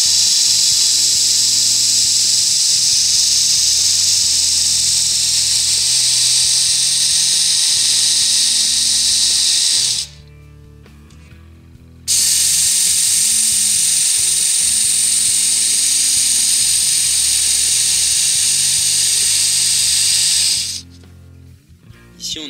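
Work Sharp Ken Onion edition belt sharpener grinding a D2 steel knife blade, a loud, close, high whirring rasp that runs for about ten seconds, stops briefly, then resumes before cutting out again.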